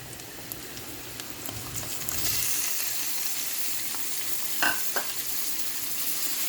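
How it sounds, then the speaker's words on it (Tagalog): Mussels and mushrooms are sautéed in a pan, with a bright, steady sizzle that swells after a couple of seconds, broken by a few scraping stirs and no voices. "Igisa natin mabuti siya"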